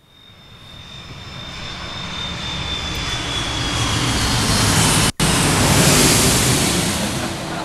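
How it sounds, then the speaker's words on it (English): A quieter-engine airplane passes overhead, its broad, even roar swelling steadily over several seconds and staying loud, with a brief dropout near the end. "Now, let's have the quiet engine."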